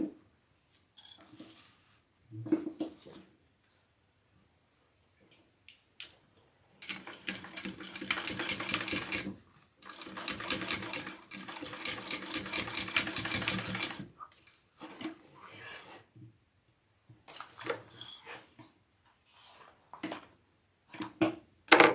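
A sewing machine runs in bursts while stitching a double row on a Bartleby garment, with short starts, then two long, steady rattling runs in the middle, followed by more brief stop-start stitches close by.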